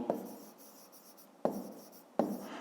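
Handwriting for a fifth-grade math exercise, three sharp pen taps on paper each followed by brief scratchy strokes, quiet and close with pauses between and no speech.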